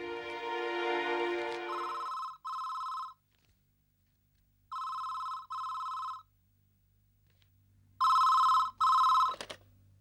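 A telephone rings in a home in a Tamil television serial, with repeated double electronic trills broken by pauses. Before the ringing, a bright harmonic musical tone plays, and a low hum runs underneath.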